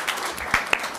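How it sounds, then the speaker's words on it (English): Scattered claps ring out from a small audience at a meet-the-author event, a brief and fairly faint patter with a few sharper individual hand claps. "You can applaud for people."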